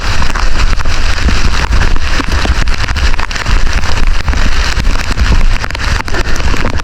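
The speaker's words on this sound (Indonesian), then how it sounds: "Hujan nggak begitu deras, tapi cukup membuat basah guys." Light rain falls on a mountain hike on a slippery trail toward a summit, making a dense, steady patter close to the microphone, with some buffeting wind noise and no talking.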